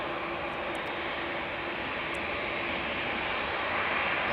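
Jet aircraft engines roar steadily during an aborted takeoff at Amsterdam Schiphol Airport, a loud continuous broadband rumble heard from a distance with no voices.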